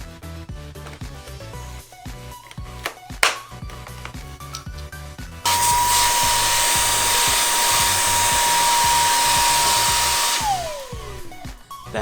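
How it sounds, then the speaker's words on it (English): A Fabuletta cordless stick vacuum cleaner runs with a loud, steady whine for about five seconds, then winds down as it is switched off, after a stretch of clicking and handling noises. "That is the Fabuletta vacuum cleaner"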